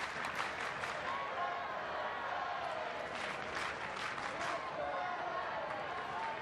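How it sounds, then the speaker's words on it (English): Baseball fans at a spring training ballpark clap in a steady rhythm during the ninth inning, a sustained crowd clatter heard at a distance. "That rhythmic clapping is just not going to be there on opening day."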